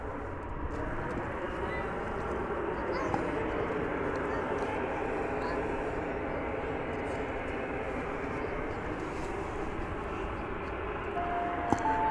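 A Delta airliner takes off from runway 18 Left at DFW Airport. A steady, distant jet roar holds for the whole stretch, with voices talking underneath.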